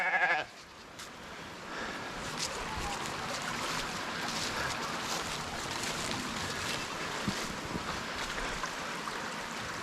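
Young lambs on a homestead bleat intermittently in the background amid outdoor wind and ambient noise, moderately faint, with occasional calls standing out.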